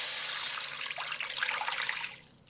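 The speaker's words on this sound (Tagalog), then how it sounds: "Nagbuhos lang ako ng tubig dito." Water poured into a pan while cooking a Christmas dish with flour, a steady splashing stream running continuously and close, tapering off near the end, with no talking.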